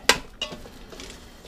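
A utensil scrapes and knocks against a pan while chicken stir-fry with rice is stirred, giving a few sharp clinks near the start and end with softer scraping between, close and fairly quiet.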